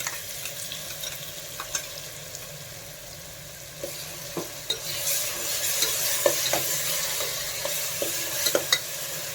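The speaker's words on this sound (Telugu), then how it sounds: "సో మనం ఆల్రెడీ పేస్ట్ చేసి పెట్టుకుని వేసేసుకొని బాగా వేగనిచ్చుకొచ్చుకుందాం, పచ్చి వాసన పోయేదాకా." Green paste frying with onions over a high flame gives a constant sizzle, with stirring scrapes and spatula taps scattered through it.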